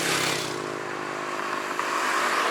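Traffic on a busy road in Uruguay, a steady broadband roar of vehicles passing close by and continuing throughout, with engine hum and tyre noise but no talking.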